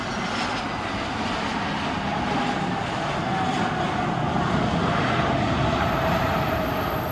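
An airplane landing at Cristiano Ronaldo Airport in Portugal gives a steady, loud broadband engine roar that holds evenly throughout, with a faint high whine near the end and no voices.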